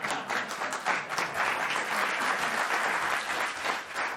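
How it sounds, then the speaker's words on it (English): A studio audience at a comedy talk show claps and cheers for a joke, a dense, continuous wash of applause heard alone at moderate level. "I'm just happy they're clapping at that joke"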